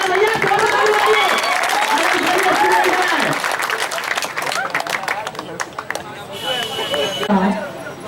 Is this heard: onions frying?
no